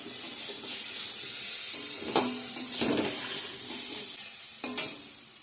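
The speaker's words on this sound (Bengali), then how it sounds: "সোয়াবিন আলুর তরকারি রান্না করছি বন্ধুরা।" Soybean chunks and potato curry frying in a pan, a steady close sizzle with a few louder scraping stirs of a spoon against the pan.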